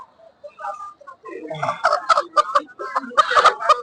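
Chickens cluck at a busy poultry market, short bursts coming in clusters over steady crowd chatter and nearby voices.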